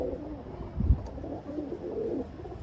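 Pakistani pigeons cooing at a bird market, soft low murmuring coos repeating close by with one fuller coo in the middle, no talk over them.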